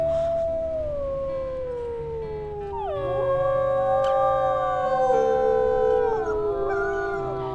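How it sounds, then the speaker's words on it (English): Wolves howl together in the Wildfire Pack Legacy video game, several drawn-out rising and falling voices layered into a loud, close chorus that lasts throughout with no talking. "Let's go ahead and do a howl."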